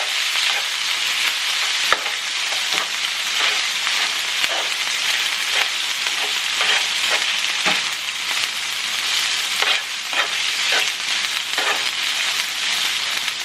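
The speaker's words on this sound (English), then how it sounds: "Turn down the burner a little bit because it's on and popping" Low-carb keto food sizzling and popping in a pan on a stovetop burner, a loud continuous close sizzle with scattered sharp pops throughout.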